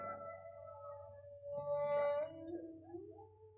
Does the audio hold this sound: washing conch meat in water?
no